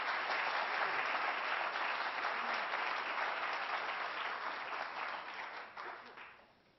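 An audience at the Bloomberg School breaks into sustained, dense applause to welcome Dr. Al Sommer to a book celebration, the clapping steady and full before tapering off at the end.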